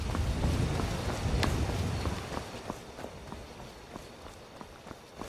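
Footsteps of the player character in Skyrim, a run of soft, evenly spaced steps over a steady rain-like ambient wash, the bed thinning out and the individual treads becoming more distinct toward the end.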